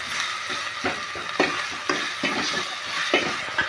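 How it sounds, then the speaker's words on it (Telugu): Masala with onions and tomatoes deep-frying for a mushroom curry, a steady close sizzle broken by repeated scraping stirs of a spoon in the pan, with no talking. "డీప్ ఫ్రై చేసుకుందాం."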